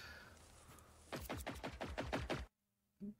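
Rapid bursts of video game gunfire crack out in a fast rhythmic string, loud and close, then stop abruptly before a brief final thud.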